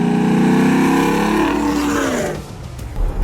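A 1970 Chevy C-10 with an LS3 swap and 2.5-inch stainless tubing into Borla XR1 exhaust revs loud and close, a deep droning exhaust note that holds and then falls away as the engine settles back toward idle.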